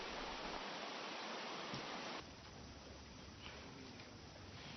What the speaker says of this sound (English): We were just about 100 more steps to the top and it has started to pour.